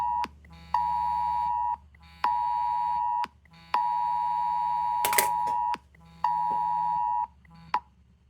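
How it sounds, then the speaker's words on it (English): A child abduction emergency alert tone on a phone sounds as a loud, steady electronic beep in long repeated bursts, about five in a row with short gaps, and a brief click between them. "I just got a child abduction warning on my phone"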